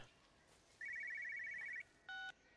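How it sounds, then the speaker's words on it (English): A cell phone rings in the video game Everybody's Gone to the Rapture, a clear synthetic tone holding for about a second, then a short second burst after a pause, fairly loud against a quiet background. "Oh, a cell phone."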